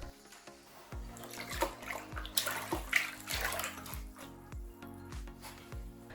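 Water runs into a basin being filled to make a saltwater soak, a steady splashing stream with repeated low thuds and clunks alongside it, close by and moderately loud, with no talking.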